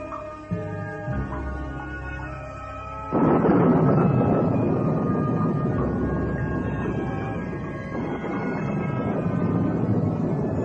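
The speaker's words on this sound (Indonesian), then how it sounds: "Suara petir, gluduk, itu rupanya penyebabnya." A deep, loud rumble of thunder rolls in abruptly and lingers, sustained and heavy over a faint tonal background.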